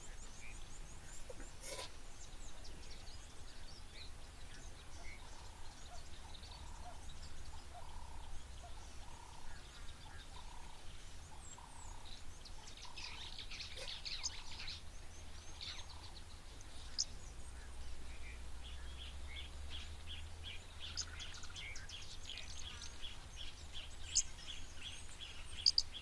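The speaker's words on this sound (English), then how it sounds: "all the different birds that are calling around the water" Faint, scattered bird calls and chirps from several directions rise around a waterhole over a steady outdoor hiss, distant and soft throughout.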